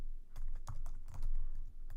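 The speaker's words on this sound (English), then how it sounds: "Oops, sorry, my typing is bad." Fingers tap away on a computer keyboard while coding Java, a quick uneven run of close, soft clicks over a low background hum.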